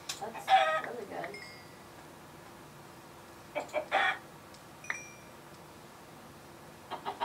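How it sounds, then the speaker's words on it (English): Chickens in the Minecraft mod WitchCraft give short bursts of clucking, a cluster near the start, then a few more after a quiet gap and at the end. "We already got 6 feathers from 2 chickens."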